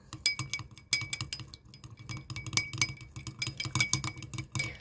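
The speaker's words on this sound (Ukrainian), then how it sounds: "І все це добре перемішуємо." A spoon stirs an olive oil and honey dressing inside a drinking glass, producing rapid, close, ringing clinks and scrapes in quick irregular bursts.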